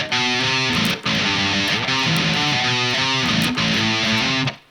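Heavily distorted electric guitar chugs through a riff, dense and loud with short choppy breaks between bursts, played up close with no talking.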